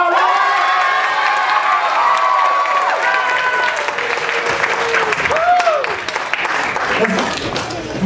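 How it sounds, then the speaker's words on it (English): A festival audience at a magic show applauds loudly and cheers, with whoops and children's shouts mixed into the crowd noise, while voices carry over the top. "you have to give the biggest applause you can give"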